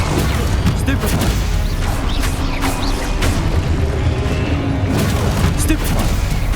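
Spell impacts from the Stupefy charm in Hogwarts Legacy, a loud run of booming, crashing hits over a constant bed of rumbling game sound, with a voice mixed in.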